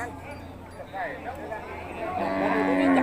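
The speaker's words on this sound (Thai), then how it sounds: "วัวเลี้ยงนะครับผม" Cattle moo at the Kusuman livestock market in Sakon Nakhon, Thailand, a long lowing call rising toward the end amid market bustle, with people talking throughout.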